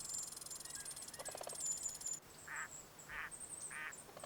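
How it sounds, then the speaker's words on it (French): Sandhill cranes in the wild give a few rolling, bugling calls at a distance, separated by gaps, over faint bird chirps and quiet outdoor ambience. "Des grues du Canada, déjà surveillées par Gamini"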